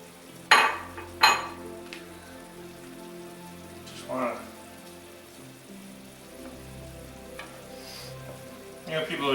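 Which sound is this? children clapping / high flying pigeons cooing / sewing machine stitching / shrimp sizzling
shrimp sizzling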